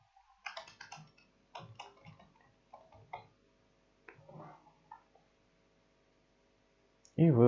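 Light clicking keystrokes on a computer keyboard come in short irregular bursts with pauses, faint and close, followed by a louder thump at the end.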